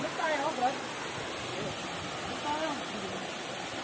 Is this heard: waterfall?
yes